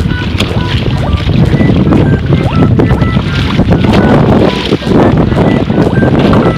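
A canoe with a homemade sail heads upwind on open water, with loud, constant wind buffeting the microphone over splashing water and hull noise throughout.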